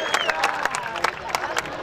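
Clapping and cheering from a crowd at a political speech event in Solapur, a dense burst of hands with scattered voices, moderately near and busy throughout.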